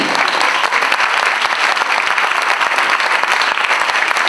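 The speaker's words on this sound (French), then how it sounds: "donc on les applaudit bien fort" A theater audience applauds loudly and continuously at an improv final, dense clapping filling the whole stretch without pause.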